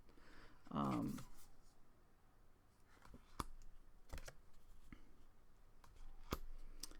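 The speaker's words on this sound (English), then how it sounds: "I'm riffle shuffling them because I really want to break them in" A brief, close fluttering burst as a deck of El Goliath tarot cards is riffle shuffled, followed by faint scattered taps and clicks of the cards being handled.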